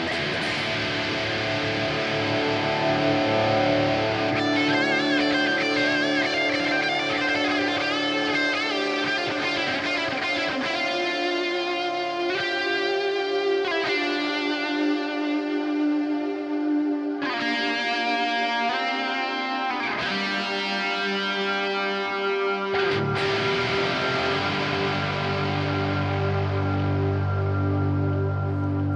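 Ambient electric guitar played through a GP100 effects unit set for a big echo, with sustained shimmering chords and long washes of delay and reverb layered over one another, changing in steady waves throughout.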